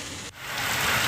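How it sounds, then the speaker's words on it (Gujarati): Heavy monsoon rain pours over Junagadh city, a steady, dense hiss of falling water with a brief dip near the start before it swells slightly louder and continues evenly. "શહેરમાં ધોધમાર વરસાદ શરૂ થયો છે।"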